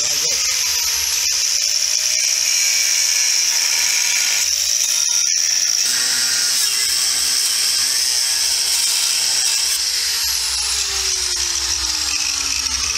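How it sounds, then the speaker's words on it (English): A new cutoff wheel grinds through a bracket on a Chevrolet S10 frame, a loud continuous high-pitched whine with shifting pitch and gritty metal scraping that holds steady throughout, broken briefly by crackling bursts as the wheel bites. "I'm going to start and make my cut on this side of this bracket because I got a new cutoff wheel on it"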